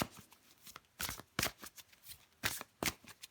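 Tarot cards being shuffled by hand during a weekly astrology card reading, a series of crisp, papery riffling bursts in irregular rhythm, close and fairly quiet, with no talking.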